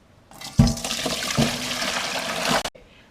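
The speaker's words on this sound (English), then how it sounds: "Now we need to drain them and rinse them off." Tap water gushes loudly and steadily onto brined cucumber chips with onion as they drain and rinse in a colander, a continuous splashing rush that cuts off abruptly.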